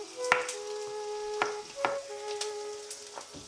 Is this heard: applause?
no